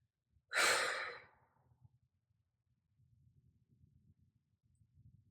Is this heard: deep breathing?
yes